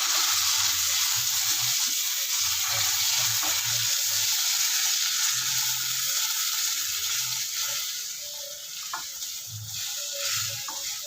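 Steady bubbling sizzle of semolina added to boiling water, close and continuous, with occasional soft stirring or splashing beneath it.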